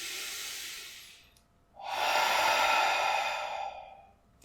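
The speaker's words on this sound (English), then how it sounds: "Just breathing in deeply in through your nose and breathing out through your mouth." Two deep breaths, the first a slow inhale through the nose and the second a long, airy exhale through the mouth, heard close and clear with a short pause between them and no talking, as part of a relaxation exercise.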